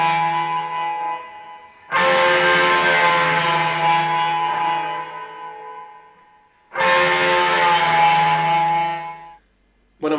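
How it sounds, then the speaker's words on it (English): Sustained, wailing electric guitar slide tones drenched in reverb and delay, in two long swells separated by a brief gap, with a short third burst at the end. "When I'm recording that wailing siren sound part, I've put a little bit more reverb through the amplifier."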